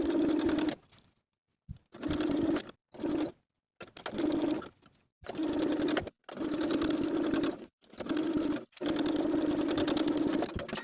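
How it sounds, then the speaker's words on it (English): A sewing machine stitches facings onto a tee shirt in repeated close, whirring bursts of about a second, each separated by short silent pauses. "Then we can sew both of the facings in place with a 3/8 inch seam allowance."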